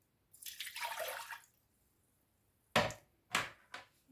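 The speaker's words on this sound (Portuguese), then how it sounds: "já vou colocar água." Water poured into savory pie batter in a home kitchen, a soft splashing pour followed after a pause by two short splashes, faint and close with no talk.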